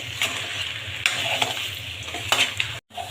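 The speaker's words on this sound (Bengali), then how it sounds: "এখন ভালো করে নেড়ে চেড়ে" Spiced curry with fried potatoes and yogurt sizzles for a fish-head muriganto, with a spoon stirring and scraping through it in several distinct strokes over a steady frying hiss, then a brief silent cut.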